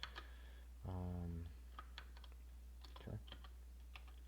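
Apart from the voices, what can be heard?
typing a command on a computer keyboard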